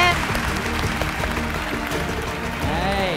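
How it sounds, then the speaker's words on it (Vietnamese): An audience gives a contestant a sustained round of applause at a televised Vietnamese singing competition, with loud, steady clapping throughout and a voice and music mixed underneath. "một tràng vỗ tay thật lớn dành cho Phạm Lực nè các bạn."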